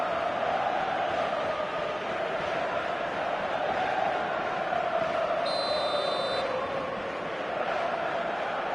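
Steady roar of a stadium crowd in a PS4 football video game, continuous and broad, with a brief electronic whistle-like tone partway through and no talk.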